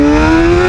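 A ZXMOTO 500RR sport motorcycle engine, a 500cc-class machine ridden at high RPM, drones loud and steady with a sustained high-rev tone, close by and with no talk over it.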